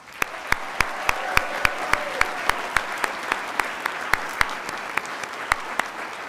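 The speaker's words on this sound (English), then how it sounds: "give the students, the faculty, and the dean a hand of applause" A crowd applauds steadily at a law school commencement ceremony, with one set of sharp, evenly spaced claps standing out clearly over the continuous clapping.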